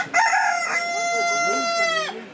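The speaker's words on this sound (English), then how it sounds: "these are not the brown chickens Alison has set her heart on" A single chicken calls close by among the farm birds, a loud drawn-out crowing cry of about two seconds, standing alone without talk.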